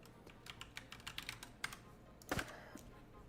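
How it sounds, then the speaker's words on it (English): Keys clacking on a Ducky mechanical computer keyboard in a quick, uneven burst of close, crisp strokes, then a louder cluster of presses near the end before it trails off. "It's called a Ducky keyboard, Ducky 1, 2 or something, I think."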